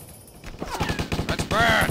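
Rapid gunfire fills a battle in the zombie action game Stubbs the Zombie, a fast, regular burst of close shots that starts after a short quiet lead-in and keeps going to the end.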